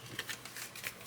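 A tarot deck is shuffled by hand, the cards riffling and sliding in quick soft bursts, close and quiet, with no talking.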